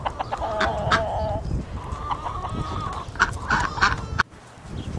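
Chickens cluck repeatedly up close, a busy run of short, throaty calls from several birds, ending abruptly with a brief quiet gap.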